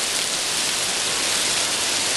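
Dense, steady patter of hail or heavy rain striking a hard surface nearby, a loud continuous broadband roar with no pauses and no voices.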